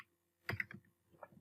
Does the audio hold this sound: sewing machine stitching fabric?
no